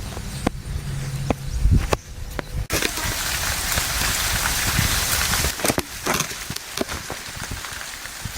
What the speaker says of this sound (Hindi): तो देखिए बारिश रुकने का नाम नहीं ले रही है